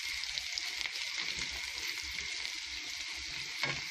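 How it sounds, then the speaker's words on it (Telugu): Onions frying in a pan after salt has been added, a steady close sizzle and crackle running throughout with occasional small pops and light stirring scrapes. "ఉల్లిపాయలు వేగిపోయినాయండి."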